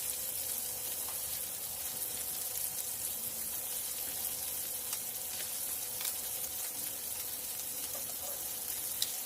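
A rosemary garlic pork chop frying in a pan over medium heat gives a steady, soft sizzle with faint crackles and pops scattered throughout, quiet and close, with no talking.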